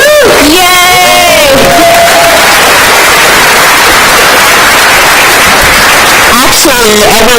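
A school board meeting audience applauds and cheers for graduating seniors, a loud, distorted wash of clapping and crowd noise with whoops and voices rising at the start and end.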